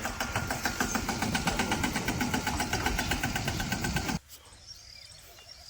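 A small tractor engine runs in a 54-day cotton field, a loud steady chugging with a fast regular pulse that cuts off abruptly near the end, leaving quiet background.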